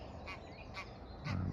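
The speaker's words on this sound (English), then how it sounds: "You'll have to excuse the geese" Geese honk a few times in quick succession, nasal calls repeating close by over a quiet outdoor background at a fishery lake in May.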